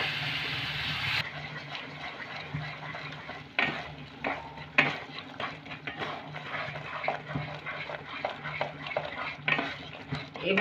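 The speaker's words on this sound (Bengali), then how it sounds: "এভাবে কিন্তু নাড়তে থাকবো যেন নিচে লেগে না যায়।" Semolina halwa with ghee and milk is stirred in a pan, a steady run of close scraping strokes and soft sizzling with repeated utensil scrapes against the bottom, no voices.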